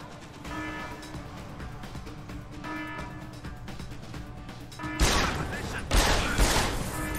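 Gunfire from a firefight in Deus Ex: Human Revolution during the Penthouse mission, with a muffled backdrop of game ambience giving way to two loud bursts of shots near the end.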